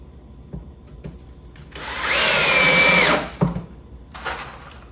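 A power drill drives a screw into the wooden side of a swarm trap, one steady whine of about a second rising out of faint background clicks, with a couple of small knocks afterward.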